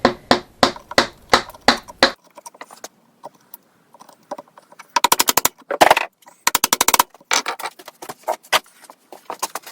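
A mallet drives a chisel into wood, trimming up a mortice: rapid runs of sharp, close knocks in bursts, separated by quieter taps and short scraping pauses.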